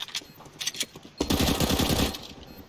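Machine pistol fire in Counter-Strike: Global Offensive: scattered short shots first, then a long rapid automatic burst of about a second, loud and close.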